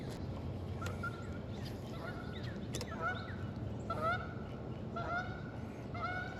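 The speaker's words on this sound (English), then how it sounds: "And there goes a Canada goose." Canada geese honk repeatedly in a loose, overlapping series over steady low background noise, heard outdoors at a cypress-lined waterway in Louisiana during a crappie fishing outing.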